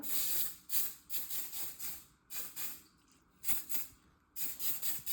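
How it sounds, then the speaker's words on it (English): Short bursts of hairspray hiss over braided hair, several quick sprays in an uneven rhythm with brief pauses, close and fairly soft. "just hairspray."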